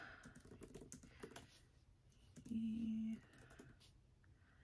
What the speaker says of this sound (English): can only type as fast as I can